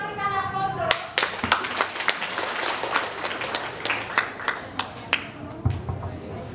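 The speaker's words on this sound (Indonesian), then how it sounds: "Mari kita berikan aplaus dulu" A room full of students at a school debate breaks into steady applause, scattered hand claps rattling on for several seconds at moderate volume, with a faint voice briefly audible at the start.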